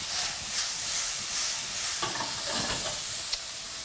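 Small-cut vegetables and meat sizzle in a hot pan for a stir fry for chow funn, a steady loud hiss with occasional stirring scrapes and clatters, close up with no voices.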